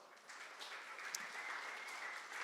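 An audience at a social media breakfast event gives the sponsors a round of applause, steady clapping that sounds distant and fairly faint, swelling slightly after a quieter start and continuing evenly.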